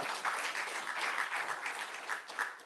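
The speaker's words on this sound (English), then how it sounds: "I clap for that." A live audience in Minneapolis breaks into a short burst of clapping, a dense crowd patter that holds steady for a few seconds.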